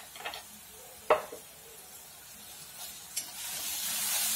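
Onions sautéing in a pan with curry leaves and turmeric, a quiet steady sizzle broken by a few sharp utensil knocks and scrapes, the frying hiss swelling toward the end.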